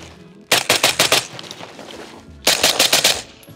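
Two rapid bursts of suppressed CAR-15 rifle fire, 14.5-inch barrel with 77-grain rounds, each several quick shots in a row, separated by a short pause, close and punchy but dulled.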